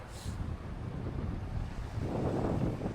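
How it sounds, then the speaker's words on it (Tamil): Wind gusting beside a lake in Pahalgam, Kashmir, a low steady rumble buffeting the microphone and swelling stronger toward the end, with no talking. "காத்தடிக்குது பாத்தீங்களா?"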